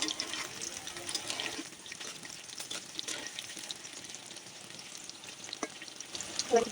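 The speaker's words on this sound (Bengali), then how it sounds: "এগুলো আমি ভাইজে নেবো ভালো করে কোফতাগুলো ভালো করে ভাইজে নিতে উল্টায় পাল্টায়" Jackfruit koftas frying in hot oil, a steady close crackling sizzle with brief bubbling bursts and faint clinks as they are turned, no talk.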